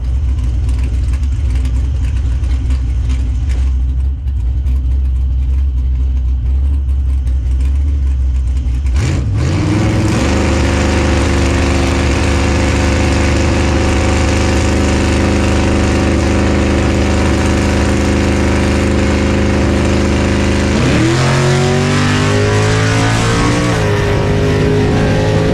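A race car engine idles loudly up close with a low steady burble, then around the midpoint swells into a harder, revving roar for a drag-style race run, with a second rising rev near the end and no talk.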